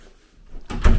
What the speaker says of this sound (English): Door under the stairs, just a little storage area.